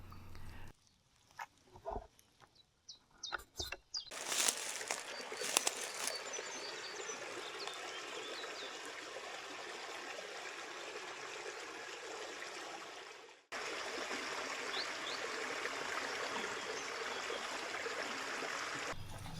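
A forest stream runs steadily beneath a footbridge in the Droitaumont marsh woods; its even, close rushing wash follows a few seconds of scattered rustling and footstep noises.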